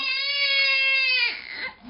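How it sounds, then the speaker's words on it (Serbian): A baby cries during a bath in one loud, sustained wail that breaks into a shaky, fading sob at the end, close up and with no talking over it. "Eto, malo plaće."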